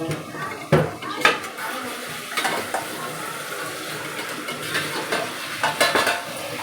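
A mixed vegetable curry with cauliflower and ridge gourd is stirred in a pan, with a spoon scraping and clinking against the metal at irregular intervals over a low sizzle, close by.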